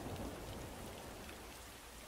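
Steady, dense rainfall poured down as a continuous hiss at night in a horror radio story set in a parked car, with no voices.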